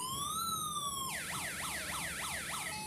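A loud siren from a home-built electronic siren module gives a steady rising tone that switches into a fast, repeating warble of quick up-and-down sweeps, harsh and buzzy.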